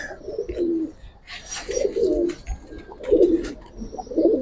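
Bagha and silver giribaz pigeons coo in repeated low, throaty phrases, about four close, moderately loud bouts with short pauses between, no talking.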